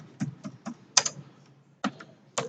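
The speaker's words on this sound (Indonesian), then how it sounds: "Nah, sekarang kita ngetik di dalam." Typing on a computer keyboard, heard up close as irregular clicking keystrokes with a short pause partway through before the tapping resumes.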